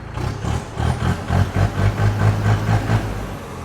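A tractor's turbocharged diesel engine with an aftermarket exhaust runs nearby with a steady, throbbing low pulse and a rough rhythmic chug, with no voices.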